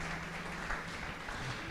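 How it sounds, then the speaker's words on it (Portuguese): Church congregation applauding, a soft, steady hiss of many hands clapping, faint and distant throughout with no clear voices. "Aplauda o Senhor no seu lugar,"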